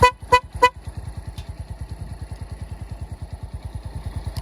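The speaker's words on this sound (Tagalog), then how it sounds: "single tone na horn" Three short, loud single-tone horn toots from a Keeway Cafe Racer 152 motorcycle, each a steady tone, followed by its engine idling with a steady rapid putter.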